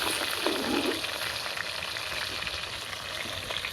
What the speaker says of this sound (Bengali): দু পিঠ এরকম ভাজা হবে মাছগুলো